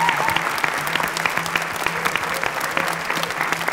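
Audience applause at a gala concert for a national singing contest, a dense burst of clapping from a large crowd, loud and steady throughout with no voices over it.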